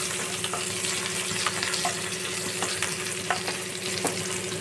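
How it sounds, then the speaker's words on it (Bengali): Spices fry in a paste of tomato, green chili, garlic and onion, giving a continuous close sizzle with soft periodic stirring strokes and a faint steady hum beneath, with no talk. "তার মধ্যে দিয়ে মশলাটা কষাবো"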